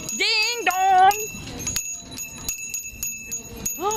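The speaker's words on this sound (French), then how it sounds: "il va falloir que vous fassiez sonner vos sonnettes" Bicycle bells rung by children at a contemporary art funfair, a few bright metallic rings with steady high tones lingering in the background while a voice sings and chats over them.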